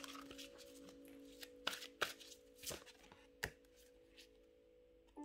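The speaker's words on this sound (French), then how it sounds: "on va tirer les dernières cartes pour clôturer le tirage" Tarot cards are shuffled and drawn by hand, giving several sharp riffling snaps and soft slides up close against a quiet room with a steady faint hum.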